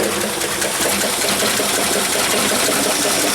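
A junked AMC 401 V8 engine runs roughly with a harsh, buzzing, rattling drone, loud and continuous from start to finish, with no talking.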